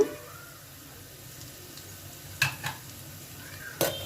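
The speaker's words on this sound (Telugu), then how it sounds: "ఉల్లిపాయ బాగా వేగినాక కరివేపాకు వేస్తున్నాను" Curry leaves drop into hot oil with fried onions, giving a low steady sizzle punctuated by a few sharp crackling spurts, close and quiet.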